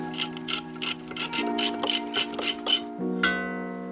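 Brake caliper mounting bracket being removed from a Mazda Miata's rear brake, with a ratchet clicking in a quick run of sharp bursts followed by a few slower turns, close and clear with no talking.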